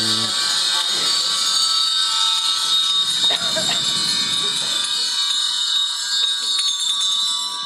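A meditation bell rung once, its bright metallic tone sustaining and slowly fading over a long ringing decay, with faint quiet sounds underneath.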